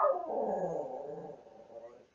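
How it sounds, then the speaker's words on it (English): A dog gives one drawn-out howl on command, loud at first and then sliding down and fading over about two seconds, alone with no voices. "Give me a howl for all the viewers."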